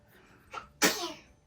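A single sneeze, close and sharp, preceded by a quick intake of breath; no one speaks.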